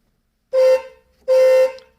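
A Maruti 800 car horn, wired through a fitted Momo steering wheel, sounds two loud, close honks of under half a second each, separated by a short pause.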